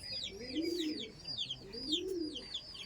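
Kalanga pigeons coo in two slow, rolling phrases close by, with chirpy bird calls and twittering over the top.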